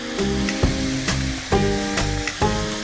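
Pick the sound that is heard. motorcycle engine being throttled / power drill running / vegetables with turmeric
vegetables with turmeric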